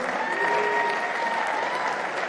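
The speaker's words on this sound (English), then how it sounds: "Carl and Runda, round of applause to them, please" Applause from an audience at a squash event ripples through the room for a couple of seconds, steady and moderately distant clapping with a faint tonal hum running underneath.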